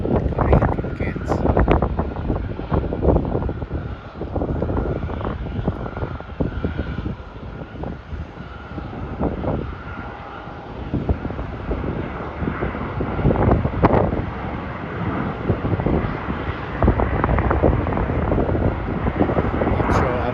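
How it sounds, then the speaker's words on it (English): A Boeing 737 airliner landing at Melbourne Airport, a broad engine roar that rises and falls across the clip, heavily buffeted by wind noise on the microphone. "that is a Boeing 737 coming in from Cairns"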